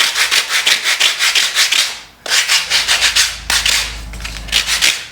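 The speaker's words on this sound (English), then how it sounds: "we can just take a sanding block and nicely clean up those edges." A sanding block rubs back and forth along the wooden edges of a PT11 boat part, a close run of quick rhythmic scrapes that pauses twice, then resumes.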